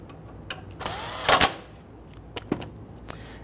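Short bursts of a power tool snugging down a bolt on the power steering pump reservoir of a 2008–2013 Infiniti G37, with the loudest whirring near the middle and a few brief clicks after.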